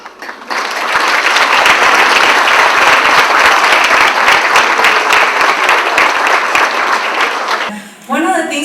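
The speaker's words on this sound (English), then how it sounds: "please join me in giving them a round of applause" A crowd at a recognition ceremony applauds loudly and steadily for several seconds, dense clapping that fades out before a voice begins speaking.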